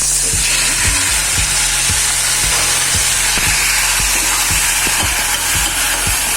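Green chillies and tomatoes, with a little salt, sauté in a pan with a loud, constant sizzle, while a spoon scrapes and taps the pan in a steady rhythm about twice a second.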